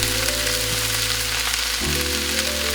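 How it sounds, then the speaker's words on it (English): Collard greens sizzle and hiss in a hot pan over high heat, a steady close frying crackle with an underlying hum and a brief shift near the end, without speech. "So I got it on high, and I just keep, moving it around, getting it on that hot surface,"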